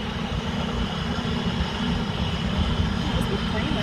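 A helicopter lifts off nearby, its engine and rotor producing a loud, steady roar that holds continuously with no break.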